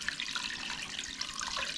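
Water runs steadily from a tap into a soup pot holding raw chicken. The rushing, splashing flow is even and continuous, close to the microphone, with no talking.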